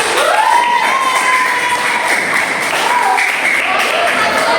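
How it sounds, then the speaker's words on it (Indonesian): Sustained applause from a classroom audience for a presenting group, steady and fairly loud, with a few voices mixed in. "Kita beri tepuk tangan dulu."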